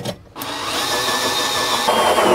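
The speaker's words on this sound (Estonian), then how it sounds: "Mõte on mul siis selle toosi freesiga läbi puurida." A power drill fitted with a hole saw cuts through a van floor, giving a loud, continuous whirring grind that starts after a brief pause and holds steady.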